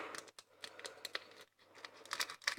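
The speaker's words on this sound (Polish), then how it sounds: "Czyli będę akurat nożyczkami otwierał." Scissors cut open a foil sticker-pack sachet close by, with quiet crinkling, snipping and tearing of the packet in short irregular bursts and brief pauses, fairly faint over a low steady hum.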